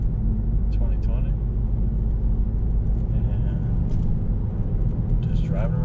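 Steady low rumble of a car driving along on a delivery run, continuous road and engine noise throughout with a person talking over it.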